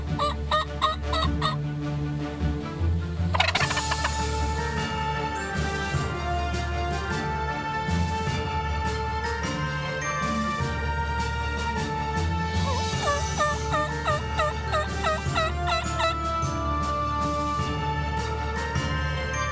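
Wild turkeys gobble in a hunting setting in Montérégie and Ontario, their calls repeating in bursts under a loud, continuous layer of music.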